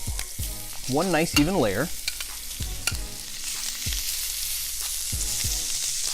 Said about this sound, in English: I'm gonna let that sear off, just kind of move some of that oil around